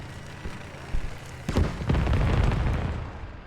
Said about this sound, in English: Airstrike just missing the Abrams because he died.